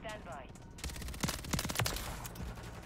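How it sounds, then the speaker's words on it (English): Horus SMG gunfire in Modern Warfare 3, a quick rattling burst of close shots after a brief lull, with a voice talking over it. "So I do think this Horus SMG is really good. Especially up close."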